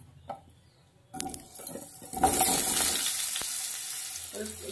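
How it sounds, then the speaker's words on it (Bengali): Diced potatoes tipped into hot oil with a torn bay leaf, starting after a brief clatter and then settling into a loud, steady, close sizzle that keeps going to the end. "ভালো করে আলুটা ভেজে নেব"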